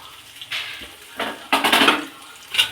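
Peanuts and roasted flour get stirred in a pan with a utensil, producing a few scraping, clattering bursts of metal against the pan, with short pauses between strokes and no voices.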